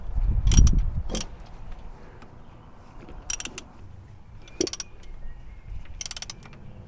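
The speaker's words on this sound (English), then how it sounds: "Give this one a tighten with the wrench." Ratcheting wrench tightening a bolt on the starter motor of a Honda CRX, a few short bursts of quick clicking spaced apart, close and fairly quiet, with faint background handling noise.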